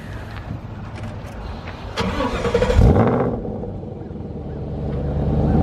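A 5.0 Mustang fitted with new 20-inch wheels pulls away onto the highway. Steady road and engine noise swells into a loud rev about midway, then settles into a sustained cruising drone.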